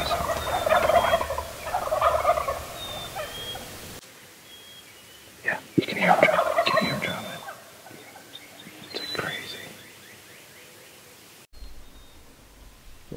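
Wild turkey gobbling from a roost in brushy woods, a few distant gobbles rising out of outdoor background noise in separate bursts, with soft whispered voices nearby.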